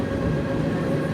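The Kacheguda Express is running past Washermanpet station in Chennai, heard as a steady, close rolling rumble of coaches on the rails with a dense low hum and no breaks in it.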